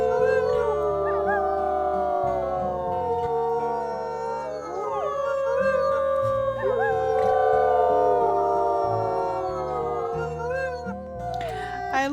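Several wolves in the WolfQuest video game howl together, their long overlapping wavering howls rising and falling in pitch over a dozen seconds, loud and close, over a low background hum.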